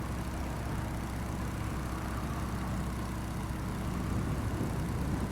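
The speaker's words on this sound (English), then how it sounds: "The sound of the engine is just wonderful." A light aircraft's engine cruising at just under 100 knots between Bandar Abbas and Karachi, a continuous low rumbling drone heard from the cabin, unchanging throughout.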